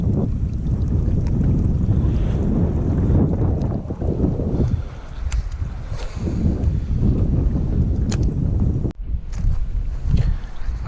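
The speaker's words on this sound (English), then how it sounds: "The wind's blowing in here, obviously." Wind buffets the microphone in a steady, loud rumble at an outdoor fishing spot beside water, with brief dips in the gusting and no talk.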